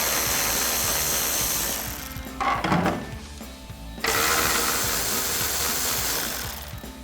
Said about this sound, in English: So we'll use our 10mm socket and get those out.